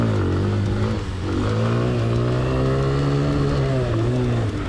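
A 125cc dirt bike at a riding park revving steadily, a loud, close engine note rising and holding for several seconds without talk.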